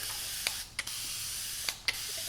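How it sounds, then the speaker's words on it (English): A handheld spray bottle mists water onto hair in four short, crisp hissing bursts that come in two quick pairs, close and quiet against a faint background hum. "we're gonna spray our hair with water first"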